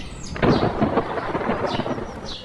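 Rolling thunder rumbles loudly over steady heavy rain in a Hindi cartoon about a little bird waiting out the rainy season, a continuous dense wash with no voices.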